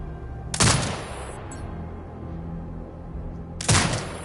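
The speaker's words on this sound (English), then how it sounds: "Exit binocular mode and command the turret to fire." A video game turret fires at marked hostiles: two sharp, loud bursts of gunfire about three seconds apart, each with a short ringing tail, over a steady low background hum.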